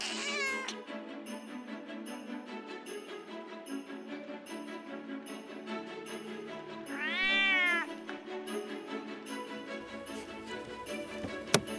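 A small cartoon cat meows over steady background music, with one clear rising-and-falling meow standing out in the middle.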